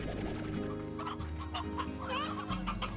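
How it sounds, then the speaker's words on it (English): Chickens clucking in the video game Slime Rancher, a steady run of close, moderately loud clucks and short squawks over a low looping game background, with no talk. "You lazy birds still haven't given me any chicks."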